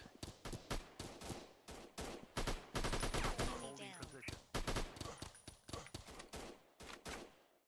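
Rapid bursts of automatic gunfire from the mobile first-person shooter Body FPS Cam (PvP shooter), loud and dense with short pauses, as a player's voice talks over the action.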